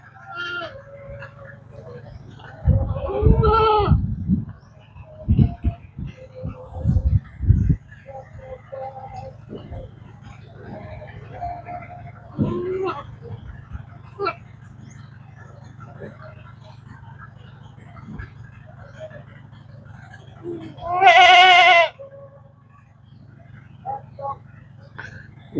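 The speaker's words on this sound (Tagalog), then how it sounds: "Ito mga kambing." Goats on a farm field bleat a few times, loud and nearby, with a sharper cry late on, while a person talks on and off over a low steady hum.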